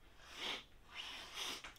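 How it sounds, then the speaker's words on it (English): Samuel Gawith Red Crest nasal snuff being sniffed up close, three soft, breathy inhalations in quick succession, faint and alone. "sniff it."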